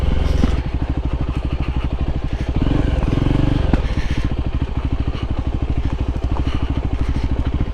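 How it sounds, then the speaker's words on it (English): A Voge 300 Rally motorcycle rides a steep trail, its single-cylinder engine thumping in a rapid, even pulse that swells briefly under more throttle, loud and close throughout. "But yeah, this bike's all right for these kind of trails."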